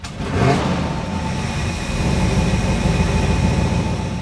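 A 1960 Ford Starliner V8, timing freshly adjusted, runs steadily up close with a loud, continuous low rumble and a brief rev near the start.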